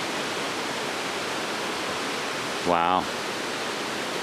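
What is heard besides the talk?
Barron Falls waterfall rushing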